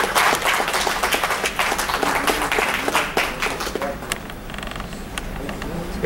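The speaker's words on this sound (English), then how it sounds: "So please welcome them with a big round of applause." Audience applause at a book launch event, a dense, steady wash of many hands clapping throughout, loud and close, tapering slightly toward the end.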